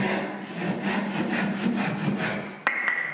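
A hand saw cutting wood on the pull stroke, a rapid run of rasping back-and-forth strokes heard close and loud, ending with a sharp knock near the finish.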